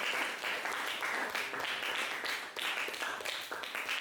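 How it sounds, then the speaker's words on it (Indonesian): Students in a classroom clap for a presenting group, giving a steady, moderately faint round of applause that lasts the full few seconds. "Oke, tepuk tangan buat kelompok."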